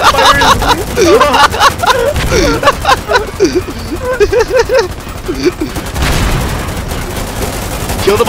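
Gunfire in the video game Foxhole, with dense rapid bursts of shots and machine-gun rattle during a landing assault, loud and continuous under shouted voices.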